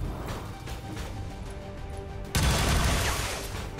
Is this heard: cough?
no